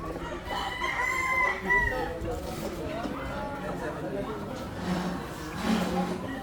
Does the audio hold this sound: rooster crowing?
yes